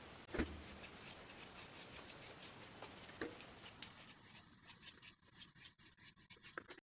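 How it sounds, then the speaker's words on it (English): Sharp scissors snip through fabric while trimming sewn seams and corners, giving a quick series of crisp, close cuts in an irregular rhythm, then a few faster snips near the end. "Trim the seams and corners."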